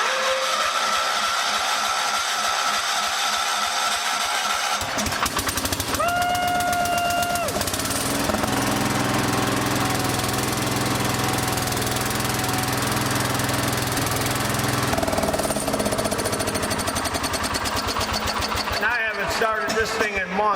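An old small engine turns over and then keeps running, a loud, steady mechanical chugging drone that changes tone partway through, with a person talking over it.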